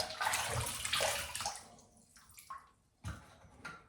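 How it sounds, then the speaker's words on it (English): Water splashing and running as someone rinses their face after a shave with a Bic single-blade disposable razor, close and fairly loud in bursts, with a quieter pause in the middle before another splash. "now I'm going to rinse off"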